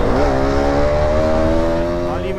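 A motorcycle rides along with a steady engine drone and rising harmonics, loud and close throughout, with a brief rev change near the start and end.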